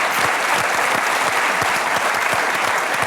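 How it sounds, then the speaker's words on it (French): A TV studio audience on a French talk show applauds steadily, a dense, even wash of clapping that fills the whole stretch with no voices over it. "Je vous demande d'applaudir, s'il vous plaît, Pauline Delpech."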